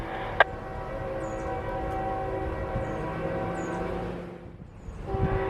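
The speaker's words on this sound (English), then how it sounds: "either a train going into the siding here or a train coming out of the siding here" A train on the W&A railroad rumbles steadily near a siding, a low sustained drone with a brief sharp clank early on, fading slightly before a rise near the end.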